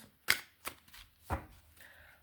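Quiet, soft tarot card shuffling: three sharp riffling bursts spaced apart, with faint rustling in between.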